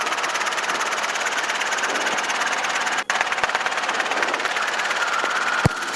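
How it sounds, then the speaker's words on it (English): A Robinson R22 helicopter in flight gives a steady, loud engine and rotor drone with a fast throbbing pulse that continues throughout, heard from inside the cabin, with a brief click near the middle and another near the end. "Santa Rosa Tower, helicopter 9670 Hotel, at Fitch Mountain with Victor requesting landing skid pads"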